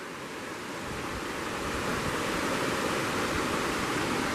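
A river flows past a campsite on the Cispus, making a loud, steady rushing wash that holds without break throughout, close and dense with no other sounds over it.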